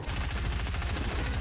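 Gunfire from a shotgun in the video game Fortnite, a rapid run of sharp bursts that continues through the moment at a steady, loud level.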